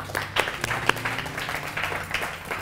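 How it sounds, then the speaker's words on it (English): Church congregation clapping together after a prayer, a steady, moderately loud patter of many hands with a few sharper claps standing out and faint voices mixed in. "Clap for the Lord."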